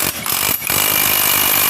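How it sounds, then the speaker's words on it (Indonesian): Impact wrench tightening bolts on a Honda Scoopy FI scooter, working from the front: loud continuous rattling hammering that breaks off in two short gaps, then runs steadily to the end, with no talk. "Kita lakukan pengencangan menggunakan impact dari depan dahulu teman-teman."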